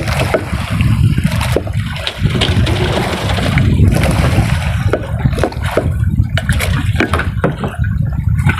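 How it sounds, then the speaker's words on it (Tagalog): Choppy sea waves with a northeast monsoon wind slapping against a small fishing boat, a continuous loud splashing and sloshing close by with irregular bursts. "medyo may alon pa"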